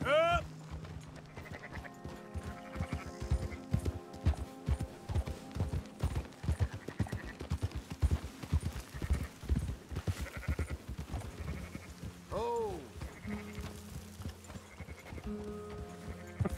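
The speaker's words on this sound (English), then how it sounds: "That was the sheep." Sheep in Red Dead Redemption 2 bleat briefly amid steady horse hoof clip-clops, with a second bleat later over the trotting and faint game ambience.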